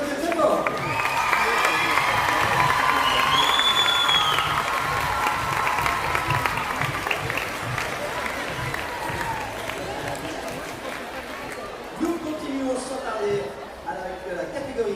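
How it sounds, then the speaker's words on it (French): Youth gymnastics awards crowd applauding and cheering in a hall, loud at first then gradually easing, with voices and chatter mixed in. "on peut les applaudir très fort"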